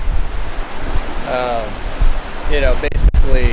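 Rough ocean waves of six to eight feet roll behind a sailing catamaran in strong gusts, a steady broadband wash of surf and wind noise with someone talking over it.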